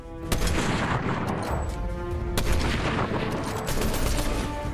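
Dense, continuous gunfire in a video game, rapid overlapping shots with a couple of sharper cracks, loud and close throughout with no talk.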